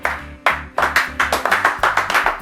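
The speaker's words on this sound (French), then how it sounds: "il y en a un autre qui va se lever, qui va applaudir" A handful of people clap in a film scene, starting with one person and others joining in, producing close, uneven bursts of hand claps in a loose rhythm.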